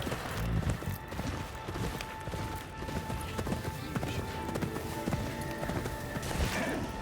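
A horse gallops in the video game Ghost of Yotei, its rapid hoofbeats pounding in a fast continuous rhythm, loud and close, over a bed of game ambience and music.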